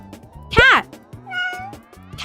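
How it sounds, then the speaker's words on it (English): A cat meows once, loud and close, with a falling, drawn-out cry, followed by a softer second meow; a voice talks over a light musical backing around the calls. "It's a cat. Cat."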